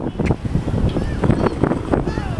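Gusty wind at a park buffets the microphone in a steady low roar with uneven surges, while faint voices sound underneath.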